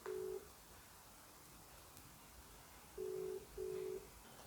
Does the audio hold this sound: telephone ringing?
yes